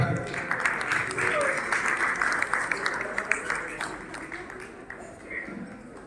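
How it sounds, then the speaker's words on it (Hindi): Applause from an audience at a Punjabi community stage event in Bikaner, with guests being welcomed. The dense clapping runs fairly loud through most of the stretch, thins near the end, and mixes with crowd noise. "एक बार पूरे ताली की गड़गड़ाहट।"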